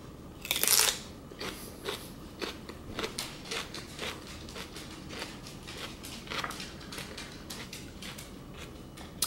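Crunchy bites of a cucumber snack, one loud crisp crunch near the start followed by a run of softer crackling chews, close and alone without talk.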